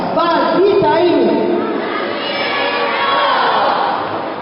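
An audience shouts and cheers loudly on request at an event hall, a dense, sustained roar of many voices that stays strong throughout.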